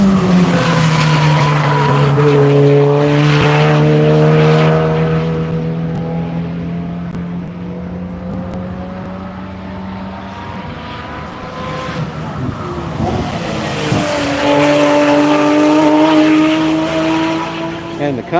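Race cars run a lap at Hedge Hollow track during the Tire Rack One Lap of America, engines roaring loudly past and receding, with rising and falling revs and a commentator talking over them.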